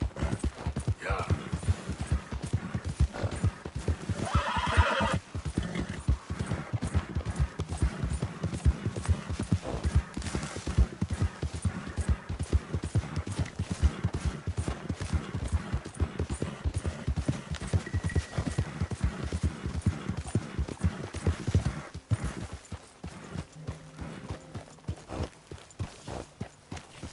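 Horse hooves clip-clop in a steady rhythm throughout a stretch of the video game Red Dead Redemption 2, moderately close, with occasional voices and in-game ambience; a neigh is not clearly evident.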